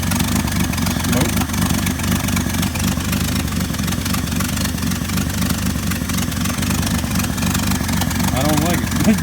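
A 1979 Ford F-150 idles steadily after a cold start, its low engine rumble continuous and close for the whole stretch, with a faint voice briefly audible near the end.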